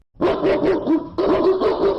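A cartoon police dog barks in a run of short, quick woofs, then pauses briefly before a second close, loud run of barks.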